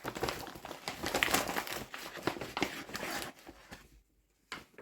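Crinkly plastic rustling with bursts of scattered, pattering noise as a military ration pack's food contents tumble out, close up, ending in a brief quiet gap and a final rustle.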